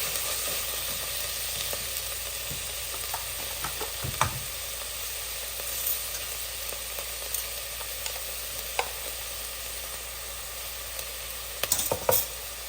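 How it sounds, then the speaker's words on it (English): Onions sauté with ginger garlic paste and salt in a pan for zeera rice, a steady close sizzle broken by occasional spatula scrapes and taps, heavier clatter near the end, no talking. "Allow the onions to saute well"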